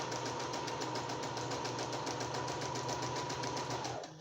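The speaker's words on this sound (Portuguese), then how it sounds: "E agora eu vou seguir a costura em cima do meu risquinho" Sewing machine running steadily while stitching a seam along a drawn line on the fabric lining of a notebook cover, a continuous close buzzing hum that cuts off near the end.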